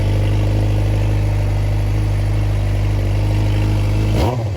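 A 2020 Suzuki GSX-R600 sport bike fitted with a K&N intake filter runs with a loud, steady engine drone for about four seconds, then the sound changes abruptly near the end.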